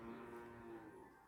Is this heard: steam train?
no